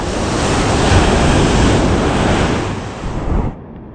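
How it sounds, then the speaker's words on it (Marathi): Loud sea waves roll in and crash on a Konkan beach during fishing, with a dense, continuous roar of surf and wind noise that eases off toward the end. "हा बघ केवढा लाट आला"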